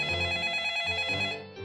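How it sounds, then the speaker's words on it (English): In the Club Penguin Island video game, a CPI phone rings with a bright, trilling electronic bell that holds steady for about a second and a half, then cuts off. "your CPI phone rings."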